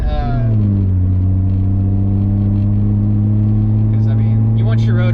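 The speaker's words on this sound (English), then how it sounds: "let the engine warm up a little bit." A Mazda FC RX7 convertible's rotary engine warming up while driving slowly, a steady low droning hum with strong harmonics and a brief rise in pitch at the start, loud and close throughout.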